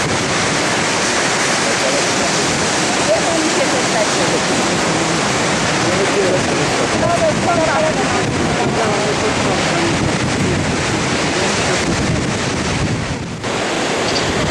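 A steady, loud rush of falling water from a waterfall in Baños, heard from a swaying cable car, mixed with gusting wind buffeting the microphone.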